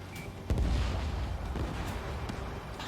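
A missile launches in the Ace Combat 7 flight game with a sudden loud boom and rushing roar, then sustained jet and combat rumble continues over scattered distant blasts.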